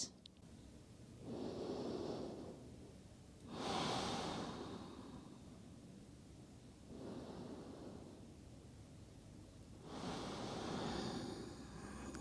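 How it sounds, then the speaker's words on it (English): Slow, deep yoga breaths during child's pose come through as soft alternating inhales and exhales, each lasting a couple of seconds, close and quiet with no talking. "Breathing full, deep breaths."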